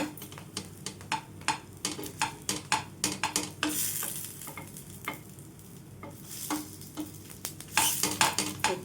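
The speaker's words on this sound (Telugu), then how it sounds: "ఈ విధంగా నొక్కుకుంటూ రెండు వైపులా క్రిస్పీగా వచ్చేంత వరకు వేయించుకోవాలి" Pesarattu, a green gram crepe, frying in a pan while being pressed until crisp on both sides: steady sizzling with repeated scraping and tapping of a spatula, close and clear, with no talking.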